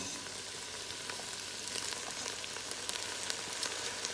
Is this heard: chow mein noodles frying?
yes